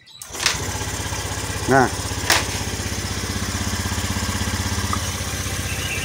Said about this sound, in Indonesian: Tapi coba kita engkol, karena tadi di engkol pun dia tidak mau nyala. Oke, sekarang kita coba selah.